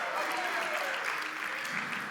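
An audience at a church men's night event applauds and cheers, a dense continuous wash of clapping from a large crowd throughout.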